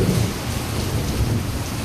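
Heavy rain pours steadily at a rural campsite during the rainy season, with low rumbling thunder blending into the constant wash; the storm stays loud and dense throughout with no voices.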